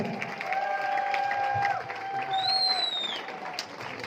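An audience at an RCM business seminar in India applauds loudly and steadily, a dense wash of clapping with some cheering and high whistle-like tones running through it.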